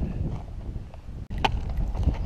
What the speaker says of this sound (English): it's windy here, it's going to be hard to hear